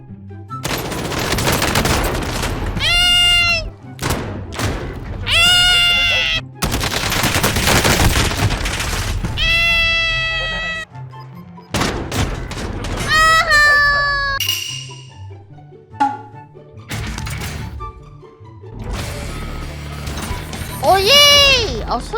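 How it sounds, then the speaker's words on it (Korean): Bursts of rapid gunfire in Call of Duty erupt in loud clusters, mixed with game sound effects and gaps of quieter moments. "이런 게임은 총소리 나면 또 못 참지"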